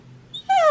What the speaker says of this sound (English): when he would do his normal barking at people that come to the door, instead of barking, he howls